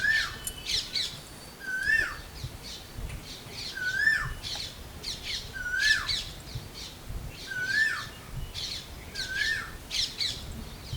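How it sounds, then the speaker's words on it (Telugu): An Asian koel calls again and again at regular intervals with rising whistled notes in a garden, while other birds chirp and squawk faintly around it. "ఈ కోయిల అరుపులు"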